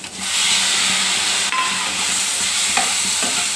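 Four chopped tomatoes go into a pan of fried onions and cashews for an egg masala curry, giving a steady, loud, close sizzle with faint stirring scrapes and no talk.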